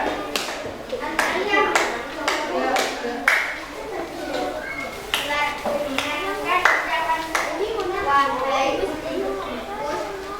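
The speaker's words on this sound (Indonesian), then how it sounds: "Yang bisa tepuk tangan." Second-grade children clap their hands in a primary school classroom, with a run of sharp, uneven claps, some louder and closer than others, while young voices and an adult talk throughout.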